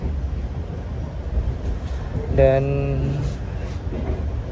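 Inside the economy car of the Senja Utama Solo passenger train, a low rumble of the moving carriage runs throughout, and a brief tonal horn-like hoot sounds midway. A person speaks briefly.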